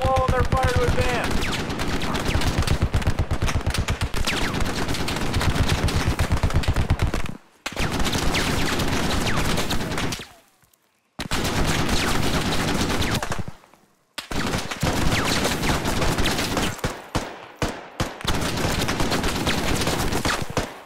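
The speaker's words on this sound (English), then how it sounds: "Suppress enemy machine gun position" Sustained automatic gunfire from a machine gun position in the video game Squad, loud, dense and near-continuous, broken by a few brief silent gaps before resuming.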